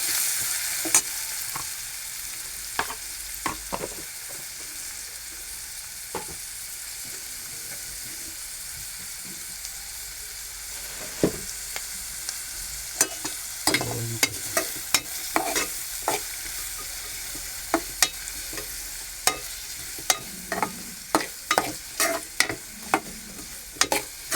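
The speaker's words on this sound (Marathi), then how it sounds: "कांदा आणि मिरची एकदमच टाकली आणि चांगलं परतून घेऊ" Chopped onion and green chili sauté in a pan for a Marathi-style bharang leaf vegetable, a steady close sizzle broken by frequent sharp scraping stirs that grow busier toward the end, with no talking.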